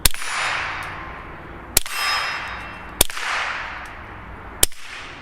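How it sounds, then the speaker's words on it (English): Three sharp suppressed .22 LR rifle shots with a WhisperStrike silencer, fired outdoors at a hay bale and a steel gong; each crisp crack is followed by a lingering metallic ring from the struck gong, spaced about a second or more apart, with no talking. "We're gonna shoot one at the hay bale, shoot the gong."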